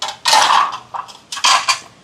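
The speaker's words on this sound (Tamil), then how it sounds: "இங்கே பாருங்க இட்லி தட்டு எடுத்துருக்குறேன்" Metal idli steamer plate being handled in a home kitchen, two loud bright clattering bursts with a few lighter clinks between them, close up and with no talk.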